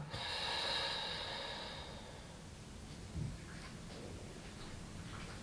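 A long, audible breath is pushed out during an abdominal and pelvic-floor exercise, loud and close at first and fading over about two seconds into quiet room tone, with a soft rustle afterward.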